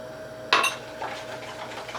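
A utensil clinks sharply against a bowl while stirring milk into revani dessert batter, one bright strike followed by softer scraping and light clatter, close and quiet.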